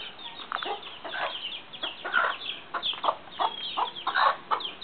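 Chickens at a farmyard in Capiz, Visayas cluck in repeated short bursts, a few birds calling at moderate distance with scattered overlapping clucks throughout.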